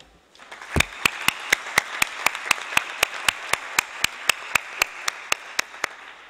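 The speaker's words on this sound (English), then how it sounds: "Would you please join me with a round of applause for the staff and leadership of UNEP and the UNOSSC." A round of applause at the closing ceremony of the GSSD Expo 2013, beginning with scattered claps that swell into a full crowd, then settling into loud, rhythmic unison clapping near the microphone.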